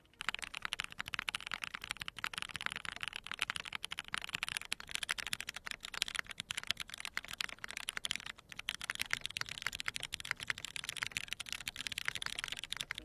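Typing on a quiet, foam-dampened mechanical keyboard: a fast, dense stream of soft clacks at low volume, running continuously with no voices.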